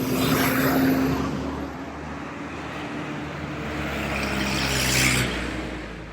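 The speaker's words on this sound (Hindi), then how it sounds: "मक्का के अंदर इस वक्त बहुत ज़्यादा ट्रैफिक है" Heavy road traffic on Ibrahim Khalil Road in Mecca, a continuous wash of car engines and tyre noise with vehicles swelling past nearby, one louder pass near the end, no talk.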